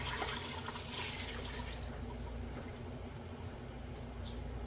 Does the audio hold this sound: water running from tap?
yes